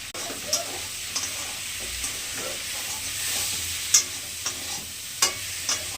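Green tomatoes sautéed with shrimp, green chillies, salt and a little sugar in a pan, giving a steady close sizzle with scattered scraping stir strokes and small clacks of a spatula.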